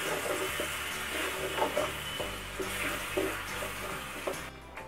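Tomato puree being stirred into fried spices in a pan for soyabean curry, a steady wet sizzle with soft scraping strokes of the spoon throughout, close and continuous.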